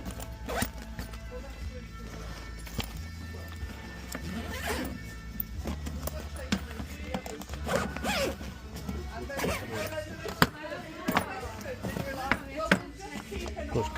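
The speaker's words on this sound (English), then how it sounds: "Test the zips." Zippers on a secondhand item being opened and closed in repeated quick rasping pulls, close up and moderately loud, with a voice talking intermittently underneath.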